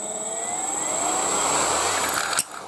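An electric motor on an ESC spins up to full throttle, a steady rising whine that holds high for about two seconds, then cuts off abruptly with a brief click.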